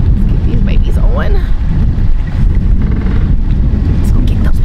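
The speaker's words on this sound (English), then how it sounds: "Wind is out today, y'all." Loud, rumbling wind buffets the microphone nonstop while bass fishing from a boat, a dense low roar with faint higher sounds faintly behind it.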